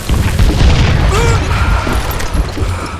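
Dynamite blast in the Call of Juarez Gunslinger Western shooter game, a loud continuous boom with heavy low rumble filling the whole stretch, debris-like crackle on top and faint voice underneath.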